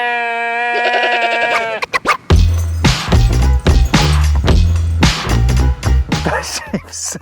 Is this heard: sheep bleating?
yes